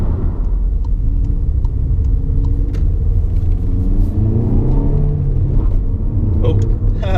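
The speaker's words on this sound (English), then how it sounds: "Oh, bit of wheel spin." A SEAT Leon XCELLENCE engine rumbles and revs hard while the tyres spin under acceleration, the rising pitch sweeping upward, with a voice talking over it.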